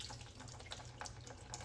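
Tap water runs steadily at a kitchen sink as it is flushed through a used Nespresso coffee pod, a soft continuous splashing and trickle with small irregular spatters, close and fairly quiet.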